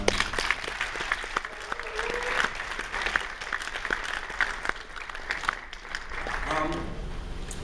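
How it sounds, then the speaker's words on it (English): An audience at an evening gathering gives Bonnie a round of applause, with steady, moderately loud clapping from many hands lasting throughout, and a little crowd murmur underneath. "So round of applause for Bonnie."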